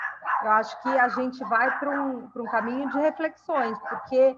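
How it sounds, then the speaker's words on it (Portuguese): A dog barks and yelps repeatedly, close and loud, its bursts mixed in with a person speaking during an online legal presentation. "desculpa o cachorro."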